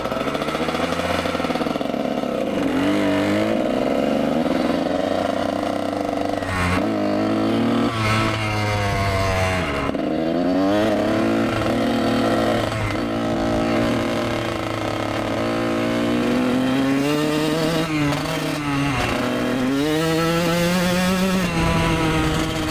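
Kawasaki KX 125 two-stroke dirt bike ridden outdoors, its engine droning steadily and rising and falling in pitch as it revs up and eases off through the whole stretch, close and loud, with no talk.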